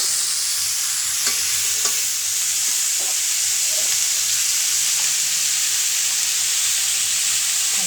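Pat shaak (jute greens) sautéing in a pan, a steady loud hiss of frying close up with a few faint spoon knocks scattered through.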